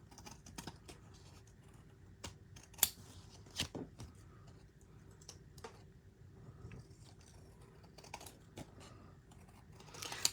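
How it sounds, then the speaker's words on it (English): Scissors trimming along a paper edge make faint, irregular snips and crisp paper rustles, with occasional sharper clicks and quiet handling noise throughout. "So you can either trim it on your trimmer or use a pair of scissors just to go right along the edge."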